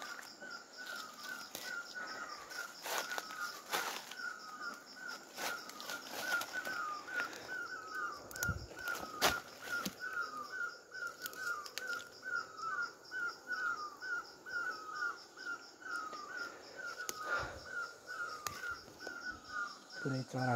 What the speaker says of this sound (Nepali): पुरै चरा कराइरहेको छ है।